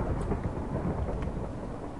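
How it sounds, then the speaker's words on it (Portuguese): Heavy rain pours steadily in the Minecraft video game, with a dense, continuous wash of rainfall and low rumbling thunder underneath, no voices present. "a chuva tá intensa"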